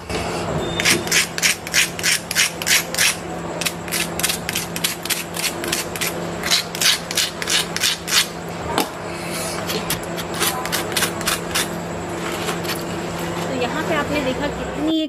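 Rapid, repeated crunching bites into a crisp, double-fried potato tikki, a fast run of sharp crackly bursts up close, pausing briefly before another burst, with faint background hum.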